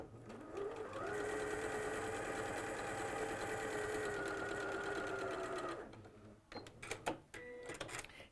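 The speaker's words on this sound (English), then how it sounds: "I've prepped this one, so we'll sew this one first." A sewing machine stitches a quilt in one long, steady, close-up whir for several seconds. It then slows and stops, followed by a few sharp mechanical clicks and clunks.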